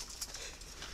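Spotted doves kept in pairs coo softly at a breeding farm, a faint low cooing close by with no voices over it.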